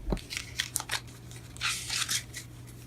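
Tarot cards slip out of a deck and land in a quick series of soft, close slaps and papery flicks, faint overall, with a brief cluster of rustling near the end.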